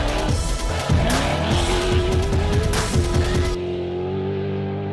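An off-road race truck in a desert race, its engine loud and near, with wavering revs and wheelspin as the throttle is feathered, then settling into a steady drone before cutting off sharply.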